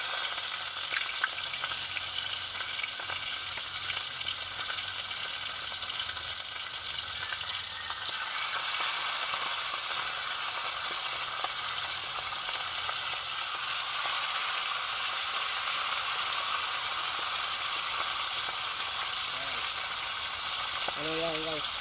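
Cooking oil sizzles and fries steadily in a hot pan, a loud, continuous hiss throughout that swells slightly midway, with a brief low voice-like tone near the end.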